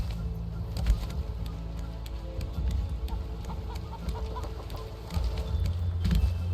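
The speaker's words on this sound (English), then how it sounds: "No name chicken, come with me." Chickens cluck in the survival game Raft, with soft repeated clucks and bird calls scattered over a steady busy game background and ambient sound.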